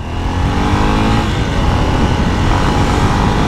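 A 2025 Honda XR 300L Tornado motorcycle being ridden through city streets, its engine droning loud and steady under strong rushing wind, with no speech.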